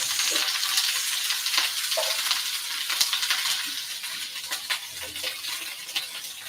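Brussels sprouts sizzle steadily in hot coconut oil in a pan for a hummus bowl with garlicky sautéed sprouts, a continuous close, bright frying hiss with small pops and crackles throughout and no talking.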